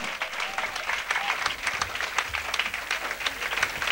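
A seated church congregation claps continuously during a worship service, dense, steady applause that fills the space, fairly distant, with faint voices mixed in.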